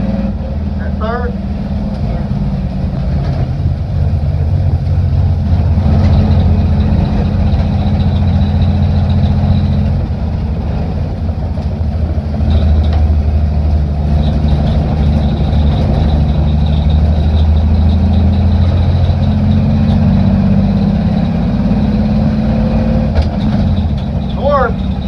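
A 1960 Grumman Olson step van runs in fourth gear with a steady, loud low engine drone and rumble throughout, while people talk over it.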